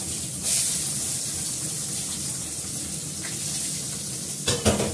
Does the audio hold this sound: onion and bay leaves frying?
yes